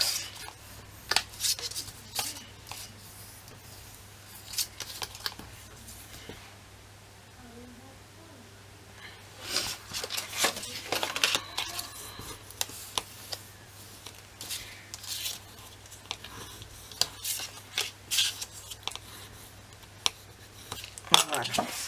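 Paper being creased firmly along its folds for a Christmas scrapbook album, giving close, crisp rubbing and crackling strokes in irregular bursts, with a quieter stretch partway through and no speech.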